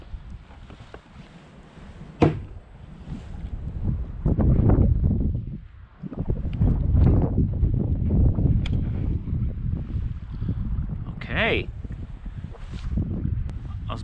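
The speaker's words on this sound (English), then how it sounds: "I was about ready to say we should go in because of the wind" Strong gusty wind buffets the microphone out on a lake while bass fishing from a boat near Crane Falls, Idaho, in loud surging roars with brief lulls, and people talk over it.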